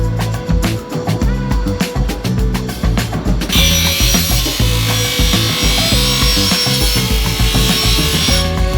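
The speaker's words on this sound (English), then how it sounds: "I'm going to cut these rails at 58 5/8 inches." A saw cuts PVC gate rails, with rapid rough rasping strokes for a few seconds shifting into a steady continuous cutting whine, loud and close with no talk.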